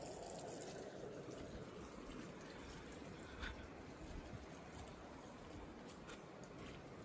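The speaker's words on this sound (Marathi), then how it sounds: "खालून नदीचा आवाज येतो." A faint, steady rush of a nearby river flowing below fills the air, distant and unbroken, with no voices, in Gonavali village, Guhagar, Konkan.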